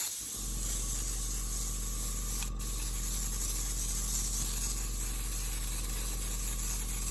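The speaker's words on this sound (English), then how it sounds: "it's slightly easier to get the airbrush in there" Airbrush spraying dye onto tutu net, a steady continuous hiss with a constant low hum beneath it, close and unbroken throughout, with one brief click partway through.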